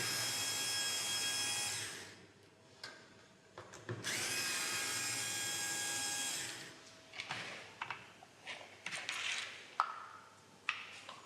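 A power screwdriver fitted with a T25 bit whirs in two long high-pitched bursts while backing out CVT transmission screws, followed by short clicks and tool handling clatter.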